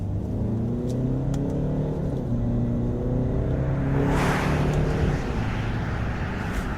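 A four-cylinder SUV engine revs up steadily in second gear, a droning hum climbing in pitch, then a rougher roar swells for a couple of seconds before easing.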